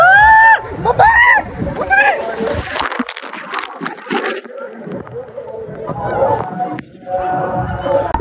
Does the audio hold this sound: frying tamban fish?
no